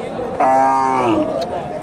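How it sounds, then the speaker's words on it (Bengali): A native cow lows once at a busy cattle market in Bogura, a single loud drawn-out moo that rises and then falls away, with faint crowd chatter in the background. "এখানে একটা দেশি গাভী দেখতেছি"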